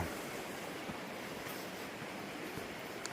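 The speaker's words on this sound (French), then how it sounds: "Ça fait du bien, ça détend, le bruit de l'eau." Water rushing steadily outdoors beside a road on a walking stage toward Gernika, a continuous broadband wash with no distinct splashes, fairly close and even in loudness throughout, with no voices over it.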